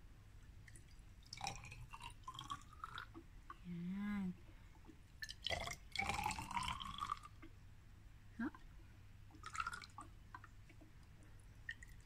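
Water poured into hollow glass test tubes for hydroponic plants: quiet drips and a short gurgling fill, with a few small splashes in between and a voice speaking softly around them.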